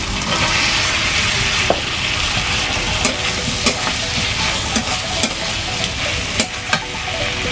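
Prawns frying in a hot pan, a loud continuous sizzle punctuated by repeated clacks of a spatula stirring them, no voices.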